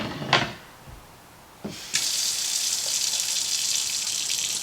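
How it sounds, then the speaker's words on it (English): A brief knock or clunk, then a steady broadband hiss of an RV faucet running water that starts abruptly and continues evenly to the end. "we're going to run the faucet until all of the hot water is out of the tank"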